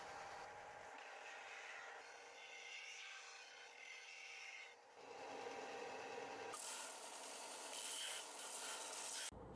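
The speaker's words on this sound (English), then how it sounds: "Time to sand the ends of all the slats and also the cross pieces that go underneath them." Steady, loud abrasive rasping as the ends of wooden shelf slats and their cross pieces are sanded, running continuously with a brief easing midway and no speech.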